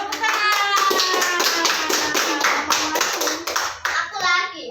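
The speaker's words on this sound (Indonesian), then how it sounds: "Ya betul. Tepuk tangan." Children clapping hands in a primary school classroom, a rapid run of loud, close claps in a steady burst that tapers off at the end.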